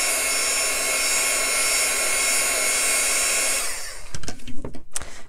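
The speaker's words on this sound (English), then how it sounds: "one thing I do when I tend to colour with Copics is just a quick blast with my heat gun" A heat gun blasts a loud, steady rushing whoosh over paper coloured with Copic alcohol markers, then cuts off abruptly, leaving a few sharp handling clicks and knocks close by.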